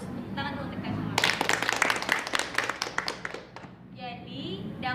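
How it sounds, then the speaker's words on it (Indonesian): A classroom of students applauds together, a burst of dense clapping lasting a few seconds that swells and then tapers off, with quieter talk before and after. "Tepuk tangan dulu untuk kalian semua."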